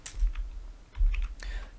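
A few quick clicks on a computer keyboard while entering a value in Rhino 7 3D modelling software, sounding as two short bursts of close, crisp keystrokes with a brief pause between.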